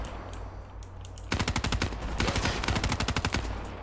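Dingo light machine gun firing in Black Ops 3, a quiet moment broken by long rapid bursts of sharp automatic shots, close and loud, with a brief gap before the fire resumes.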